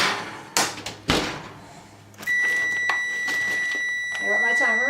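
A few thumps and a clatter, then a kitchen timer sounds a steady high electronic beep continuously, with a voice briefly speaking near the end.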